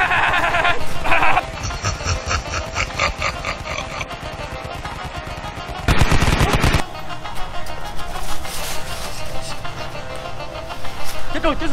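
Rapid machine gun fire rattles in a video game shootout, in bursts mixed with other game noise, under excited talking throughout.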